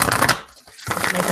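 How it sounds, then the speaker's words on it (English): A deck of oracle cards shuffled by hand, giving close, papery riffling that breaks off for a short silent moment and then picks up again. "So let me shuffle up these cards."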